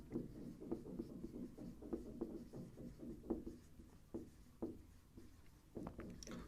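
Pen scratching on paper as a geometry note about alternate interior angles is written by hand, with a steady run of soft strokes and taps, close and quiet, with no talking.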